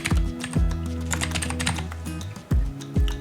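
Fast, close clicking from a computer keyboard as a file name is typed, the keystrokes in a steady run over a low tonal background hum.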